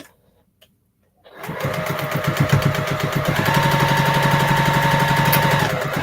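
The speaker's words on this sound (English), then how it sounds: "I'm sewing so fast" A sewing machine stitches fast in a steady, loud, close mechanical chatter. It starts after about a second of near silence and runs without a break, and no one speaks over it.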